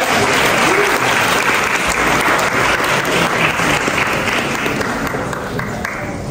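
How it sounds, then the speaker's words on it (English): An audience at a national business summit gives a loud, dense round of applause. The clapping is continuous and close, easing slightly toward the end. "another round of applause for our first five-side check"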